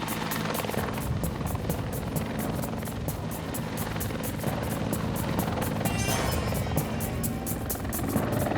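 A helicopter airlifts a salvaged plane engine toward Winnipeg, its steady rotor drone and rhythmic blade chop loud and continuous throughout, with no talk.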